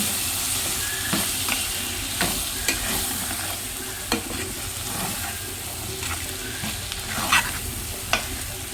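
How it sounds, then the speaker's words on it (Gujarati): Fenugreek leaves and potato curry fry in a pan while being stirred, giving a steady close sizzle broken by repeated scraping clicks of the spoon, with no voices. "પછી એને મસ્ત આપણે હલાવી દેવાનું, એકદમ મિક્સ કરી દેવાનું."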